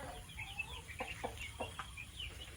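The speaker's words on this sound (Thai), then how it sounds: "ไก่เล็ก" Several young chickens cluck softly and chatter in short bursts inside a coop against a steady background hum, moderately close, with no talking.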